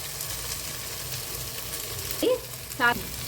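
Ginger garlic paste with green chillies and ground spices fries in a pan for vegetable pulao, a soft steady sizzle close by with a couple of brief clinks near the end.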